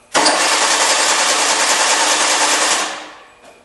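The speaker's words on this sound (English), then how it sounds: "It cranks, but it doesn't start." A 2002 Hyundai Accent with a no-start fault cranks steadily for almost three seconds, a loud continuous starter whir that never catches, then winds down into a brief quiet tail.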